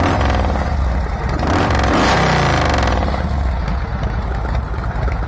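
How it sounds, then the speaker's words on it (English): A Harley Davidson Softail Custom motorcycle idles close up with a loud, uneven loping engine beat and a mechanical clatter, with a brief rise in revs midway. "is that lope or not. That's what we all have come to know and love with Harley Davidson."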